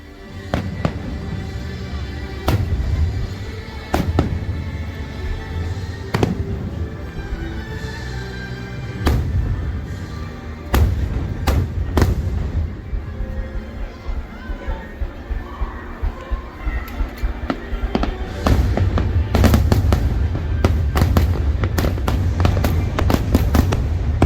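Fireworks boom and crackle in a steady series of sharp explosions at Disney World's Magic Kingdom, with a crowd murmuring and voices chattering underneath throughout.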